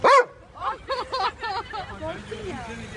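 A dog lets out one sharp bark up close, then follows with a string of whiny, yelping vocalizations.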